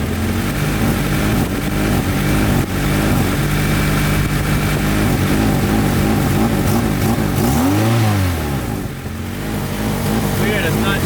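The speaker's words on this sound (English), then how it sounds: "then I get on the throttle a little bit" Honda Civic engine revs up as the throttle is applied, a loud steady drone that rises and falls in pitch near the end, with people talking over it.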